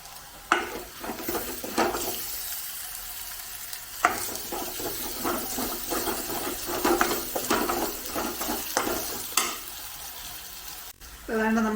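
Onion with ginger and garlic paste sautéing in a pan for chicken kondattam, steady sizzling broken by repeated scraping stirs of a spoon against the pan, with no voices.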